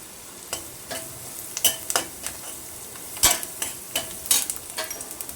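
Spiced fish samosa filling with red chilli, turmeric, coriander and cumin powder and fresh coriander is mixed and roasted in a pan, a low sizzle under frequent clinking, scraping spoon strokes at an uneven pace.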